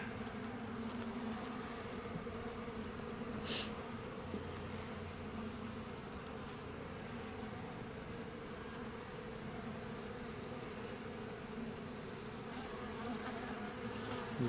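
Honey bees buzz continuously around an opened hive as its frames are inspected, a dense, even drone held at a low, steady level throughout.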